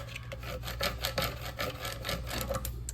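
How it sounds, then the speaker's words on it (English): Squeegee passes firmly over a vinyl decal, a rhythmic scraping rub repeated in quick strokes, close and faint over a low steady hum. "I'm gonna take my squeegee one more time and put some really good passes on top of it."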